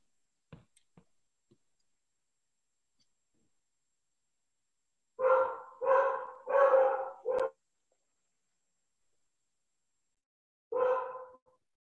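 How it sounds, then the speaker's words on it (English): A dog barks in the background, a burst of four quick barks followed after a pause by one more, fairly clear against otherwise quiet surroundings, with a few faint clicks near the start. "My dog is barking in the background."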